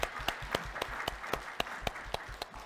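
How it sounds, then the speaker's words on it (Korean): A church congregation applauds at a Korean church service, a short burst of scattered hand claps with a few sharper, rhythmic claps standing out from the crowd at moderate volume. "자, 우리 박수로 격려하도록 하겠습니다."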